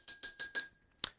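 A spoon stirs rum grog with sugar in a glass, giving four quick, evenly spaced clinks and then one final sharper clink, close and clear with no talk.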